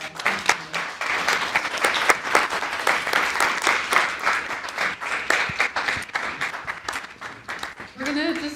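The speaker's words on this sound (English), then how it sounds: "a big round of applause" A seminar audience applauding panelists at the close of a disability-themed session, with sustained dense clapping from a room of people that carries on steadily before fading at the end, with a voice briefly audible.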